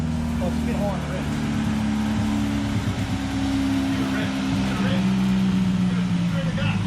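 A garage motorcycle or car engine just kicked over and now running steadily with a low, loud drone and a slightly high idle, close by, with people talking over it.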